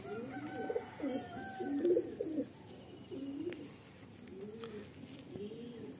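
Pigeons of the Kalasabuj breed cooing in a loft in Garia, Kolkata, with several overlapping rolling coos at close range, steady and moderately loud, and no talk.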